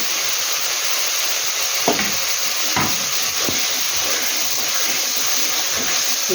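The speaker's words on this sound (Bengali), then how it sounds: "আমি একটু জল দিয়ে দিব ওই মশলা দিয়ে গ্রেভি বানানোর জন্য" Water is poured into frying masala for a Bengali catfish curry, giving a loud, steady hissing sizzle with a few scraping stirs, heard alone.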